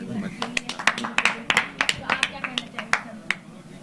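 A crowd at a press conference claps in a scattered, light burst of individual claps, fairly faint and mixed with speech.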